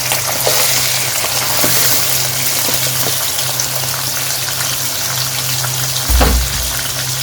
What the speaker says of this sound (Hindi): दो 3 मिनट इसको भूनेंगे खाली कलेजी को।